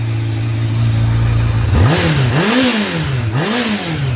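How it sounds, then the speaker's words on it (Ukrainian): A Honda CBR1000F Hurricane motorcycle engine, warmed up after five years of sitting unused, idles loudly nearby, then is revved twice in quick succession, the pitch rising and falling with each throttle blip. "То він вже трошки поработав, нагрівся, я от газую"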